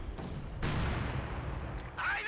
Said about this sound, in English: Mortars landing all over the place.